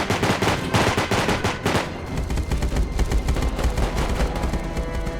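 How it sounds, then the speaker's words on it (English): Heavy gunfire in the survival game Rust, rapid loud bursts of automatic shots in quick succession, dense and close for the whole stretch with no talk. "It kept hammering us with explosive rockets and heavy gunfire."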